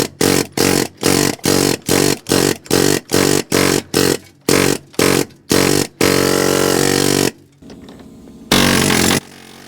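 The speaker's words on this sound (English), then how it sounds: "we're going to try to trip that out of there using our new Ingersoll Rand air hammer" An Ingersoll Rand air hammer pounds on a PK12000 sub frame to knock out a weld, firing in about a dozen loud, rapid, evenly spaced bursts, then a longer sustained run and a final short burst, very close.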